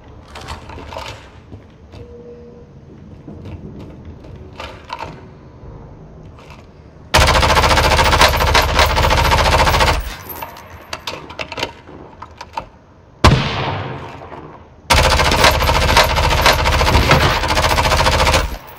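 Gunfire from a Warzone match is heard, with loud, dense bursts of rapid shots in two long stretches, separated by quieter moments of scattered sounds.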